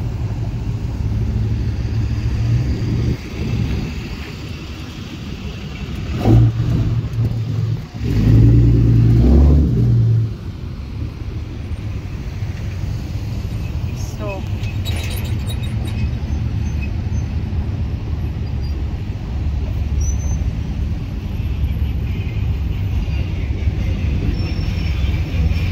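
Freeway traffic rushing past a car stranded mid-freeway, a continuous low rumble of passing vehicles with a louder surge of a heavy vehicle going by, steady road noise throughout.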